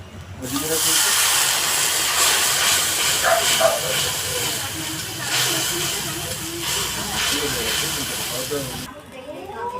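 Ground paste of ginger, garlic, green and dried chillies, cumin and coriander sizzling loudly in frying onions, a continuous bright hiss under a voice talking, cutting off near the end.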